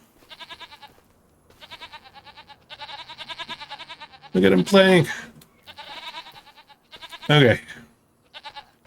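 Goats bleat in repeated wavering calls, several in succession, across a Farming Simulator 25 goat barn; someone speaks briefly over them in two short bursts.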